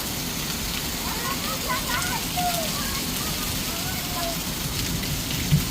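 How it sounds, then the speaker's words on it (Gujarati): Heavy rain pours down in a steady, dense hiss during a downpour in Kalavad, a continuous close wash of drops with no distinct thunderclap standing out. "ફૂલ ગાજ વીજ સાથે વરસાદ ચાલુ"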